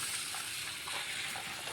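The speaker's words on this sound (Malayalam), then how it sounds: "തിളച്ച വെള്ളം അരിയിലോട്ട് ഒഴിച്ചു കൊടുക്കുന്നു" Boiling water poured onto rice, a steady close hiss and gush of flowing liquid with no pauses, no voices.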